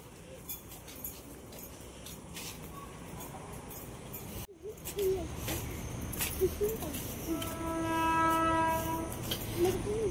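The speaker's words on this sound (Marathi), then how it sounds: "रेल्वे पण आलेली आहे." A train passes near Nagothane station beside the Mumbai–Goa highway at night, a steady rumble of wagons building louder, then a long sustained horn blast sounding in the latter half, with faint voices in the background.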